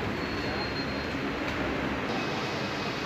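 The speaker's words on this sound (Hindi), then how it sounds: "ट्रेन अपने राइट समय पर सहारनपुर रेलवे स्टेशन से निकल चुकी है" Passenger train pulling out of Saharanpur railway station in India, heard from inside a coach: a loud, continuous broadband rumble of wheels and carriage noise with a faint high squeal, steady throughout.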